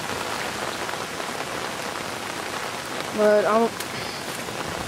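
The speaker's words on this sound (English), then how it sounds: "the rain has just picked up and gotten a little bit harder" Heavy rain from Hurricane Gustav pours steadily onto surfaces outdoors, a dense continuous hiss throughout, with a brief spoken phrase partway through.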